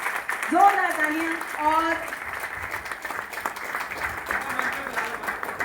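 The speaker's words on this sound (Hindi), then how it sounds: "जोरदार तालियां" An audience applauding at a poster and song launch for a Garhwali movie in New Delhi: moderate clapping under a loud announcer's voice, continuing steadily throughout.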